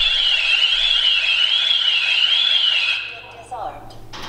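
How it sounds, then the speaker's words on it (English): A Ring Alarm 2nd Gen home security system sounds its alarm, a loud wavering electronic siren that holds for about three seconds and then cuts off, followed by a few short beeps and faint voices. "After it detects you, it gives you time to shut the alarm off."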